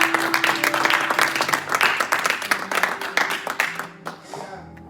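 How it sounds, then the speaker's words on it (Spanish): A church congregation bursts into applause, loud and fast clapping with a few voices mixed in, fading out over the last second. "¿Cuántos pueden dar un aplauso a Dios?"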